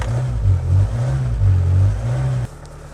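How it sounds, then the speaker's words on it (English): A Renault Trafic 2.0 engine being cranked and firing after a fuel filter change, a loud low uneven chugging that rises and falls in pulses for over two seconds, then cuts sharply to a quieter idle-like hum. "you might just have to crank your engine a little bit to get it to fire over"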